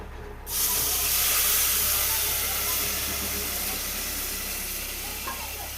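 A sharp hiss erupts as a mixer-ground spice paste hits hot oil for mixed dal, then settles into a steady, loud sizzle that continues evenly throughout.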